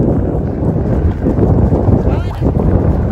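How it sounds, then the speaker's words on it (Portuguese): Strong wind gusts blow across an open coastal area near dunes and water, a loud continuous rushing roar dominating throughout. "Por causa do vento."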